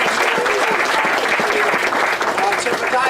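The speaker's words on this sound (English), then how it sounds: "Can we have a round of applause for Dr." Dense, steady applause from a crowd at a college sports complex press conference, close and loud throughout.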